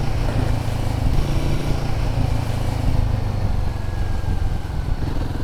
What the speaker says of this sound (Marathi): बाईकचं जे इंजिन आहे ते शेर्पा इंजिन आहे 452 CCचं